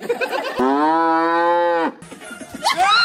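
A single long, loud moo from a nearby cow, lasting over a second, framed by brief rustling and a few short animal sounds.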